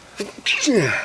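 A single human sneeze, a short sharp burst followed quickly by a brief voiced reaction, close and fairly loud.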